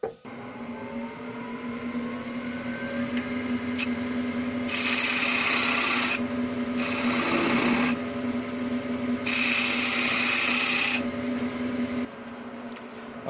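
A wood lathe turns a small wooden aperitif bowl held in a chuck, giving a steady motor hum with intermittent bursts of brighter scraping as the tool cuts a decorative relief, no voices.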